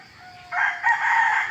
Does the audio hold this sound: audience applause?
no